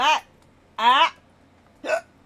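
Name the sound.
hiccup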